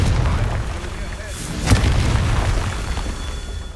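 A spell blast from Confringo in Hogwarts Legacy booms once, loud and close, in a sudden burst near the middle, set against a dense rumbling game background.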